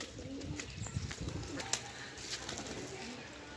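A pigeon coos softly in low repeated throaty notes under steady outdoor background noise, with a few faint chirps and small knocks around it.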